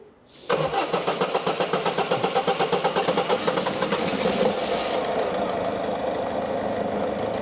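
A Berlingo van engine cranks with rapid rhythmic starter pulses, catches, and settles into a steady, even idle that carries on to the end.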